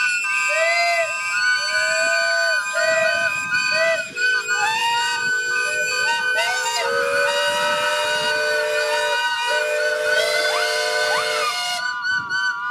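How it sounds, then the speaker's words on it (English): Several steam engines at a steam rally sound their whistles, overlapping loudly and sustained, in chords of shrill tones that start, stop and shift pitch, with hissing steam beneath and a brief cutoff near the end. "I want them to give you all a whistle, please. Thank you, engine men."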